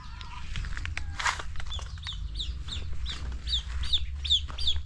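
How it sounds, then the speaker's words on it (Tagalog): Chickens cluck in a rural yard, a run of short, sharp, repeated calls close by that grow more regular toward the end over a low background rumble. "Yung mga manok natin."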